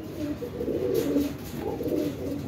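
Pigeons (kabootar) coo softly and steadily at close range, low throaty rolling calls repeating through the short stretch with no talking over them.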